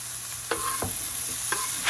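Morel mushrooms frying in a pan with garlic and onions, a steady close sizzle with a couple of utensil scrapes and stirs.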